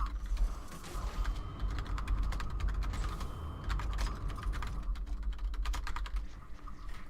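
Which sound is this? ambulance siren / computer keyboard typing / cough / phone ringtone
computer keyboard typing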